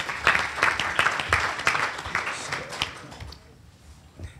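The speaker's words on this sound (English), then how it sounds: "Please give him a round of applause as he comes." Audience applause for Captain Lorenzo Waiters at a Tiger Bay Club of Manatee law enforcement update, a steady wash of many hands clapping that thins out and fades to near quiet in the last second.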